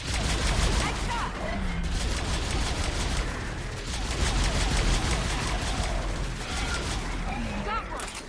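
Gunfire in the game Mass Effect Legendary Edition during a firefight, a dense continuous barrage of loud shots and impacts that barely lets up, with voices calling out under the noise.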